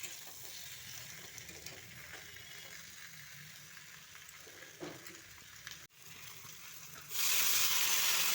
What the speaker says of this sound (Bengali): এখন এই পটল আলুগুলো দিয়ে দিচ্ছি। এখন এগুলোকে একটু কষিয়ে নেব।